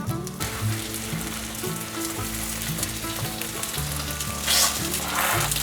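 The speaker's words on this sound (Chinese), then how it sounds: "先煎4个，盖上锅盖，转小火，慢慢的煎。" Covered pan of food frying slowly over low heat gives a steady, dense sizzle that crackles continuously, with a few brief louder bursts near the end and no speech.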